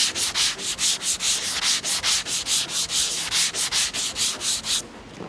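A sanding block works over black urethane primer surfacer on a car panel in steady back-and-forth strokes, about twenty close, even, rasping passes in a regular rhythm with no talking.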